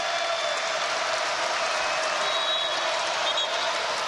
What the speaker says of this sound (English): The crowd's starting to get into it a little bit